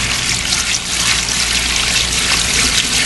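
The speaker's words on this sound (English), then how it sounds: "you're just going to pour the water" Water from a bucket is poured over dry clay, making a continuous close splashing and trickling rush that stays loud and steady throughout, with no talking.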